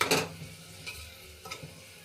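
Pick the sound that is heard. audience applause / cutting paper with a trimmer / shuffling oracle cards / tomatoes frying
tomatoes frying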